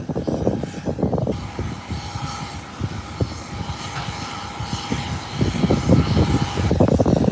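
A JetBlue airliner out of New York, New Jersey at Howard Hamilton International Airport, its engine noise holding as a steady broad roar with a faint whine, loud and fairly near, growing slightly stronger toward the end.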